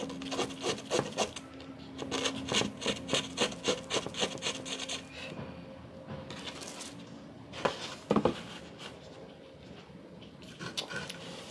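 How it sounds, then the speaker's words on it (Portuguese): Nail file rubbing back and forth over painted wood, quick rhythmic rasping strokes up close that slow and thin out midway, with a couple of sharp knocks near the end. "Lixa de unha, é."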